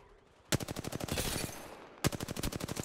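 Apex Legends gunfire: two bursts of rapid automatic shots in an even, fast rhythm, close and loud, with a short pause between bursts.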